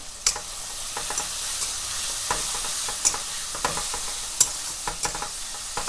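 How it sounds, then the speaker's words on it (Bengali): Spices and turmeric fry in a pan for a flattened-rice pulao, giving a steady close sizzle broken by repeated sharp scrapes and clacks of a stirring spoon, with no voices. "এটা এবার ভালো করে ভাজবো"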